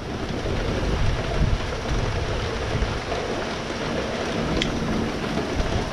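A thunderstorm with steady heavy rain drumming on surfaces and low rumbling thunder underneath, continuous and fairly loud, with no voices.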